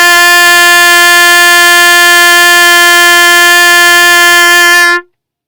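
An open G on the trumpet with no valves down rings as a single loud, steady brassy tone for roughly five seconds before stopping abruptly, with no voices over it.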